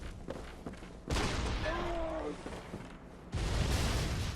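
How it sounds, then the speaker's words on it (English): Cannon fire in the video game Bloodborne: heavy booming blasts in two loud bursts, each followed by rumbling, with someone speaking briefly between them. "That man's using a fucking cannon."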